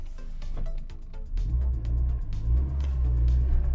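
A Nissan Micra K11 drives along with a steady low engine rumble that builds slightly as it accelerates, heard close from inside the car with no talk.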